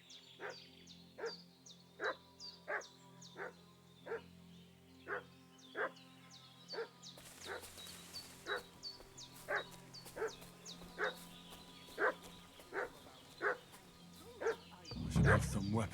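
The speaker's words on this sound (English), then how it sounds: "What's that dog making such a fuss about?" Dog in Kingdom Come Deliverance 2 barking in a steady, regular rhythm, about a dozen sharp barks with a whimpering edge over a low ambient hum, growing busier with added noise midway.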